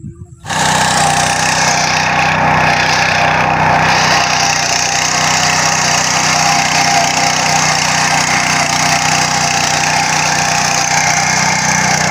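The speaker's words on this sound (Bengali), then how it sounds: "চায়নার আবিষ্কৃত এই ধান কাটার আশ্চর্যজনক এই মেশিনটা" A Chinese-made rice harvesting machine running in a paddy field, its engine starting up and then droning loudly and steadily at close range with a rough mechanical rattle, no talking.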